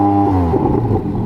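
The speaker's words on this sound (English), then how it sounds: "Now have a listen, go on, rev it." A Porsche 718 Spyder RS engine revs while the car stands still, loud and close, its tone rising sharply and then falling back in a single brief blip.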